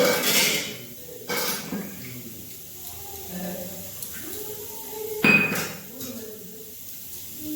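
Dishes being washed by hand, with scattered clinks and clatters of plates and utensils and some running water, close up, with faint background sounds between the knocks.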